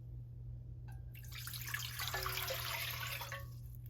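Water pours into a pot for cooking rice in a home kitchen, a soft, fairly close splashing stream lasting a few seconds over a low steady hum.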